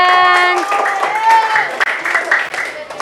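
Schoolchildren in a classroom clap for a classmate, a scattered patter of hands under and around a voice speaking nearby.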